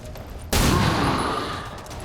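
A single sharp pistol shot in XCOM 2, a sudden loud crack followed by a long decaying game-effect tail, with no talk over it.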